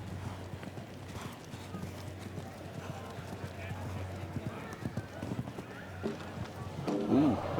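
Hooves of a show jumping horse galloping across the arena at the 2019 RBC Grand Prix of Canada, a soft rhythmic clip-clop under continuous commentator talk and a low crowd murmur.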